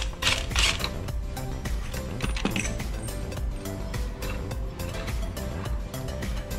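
Metal parts clink and ratchet while a sprocket is swapped on a minibike's driven pulley, a close stream of small clicks, taps and scraping with a few sharper knocks.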